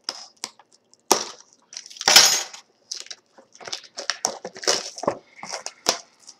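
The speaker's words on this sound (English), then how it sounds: "I'm going to use my keys to open this." Keys slicing open the seal of a 2021 Leaf Multi Sport sports card blaster box, heard as close, irregular bursts of scratchy crinkling and tearing with short pauses between strokes.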